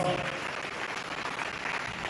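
Fairly faint applause from an audience at a business breakfast in Toronto, welcoming Max Pavela, president of Ghanaian Gold and Asante Gold: an even spread of many hands clapping in a large room.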